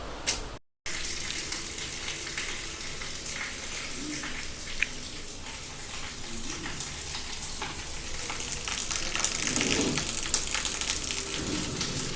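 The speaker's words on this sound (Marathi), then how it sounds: "मला एवढे सगळे भांडे पडले आहेत, हे भांडे घासायचे आहेत." Running tap water while a pile of dishes is washed at a kitchen sink, steady splashing and hissing with scattered clinks and scrubbing sounds throughout, no voices.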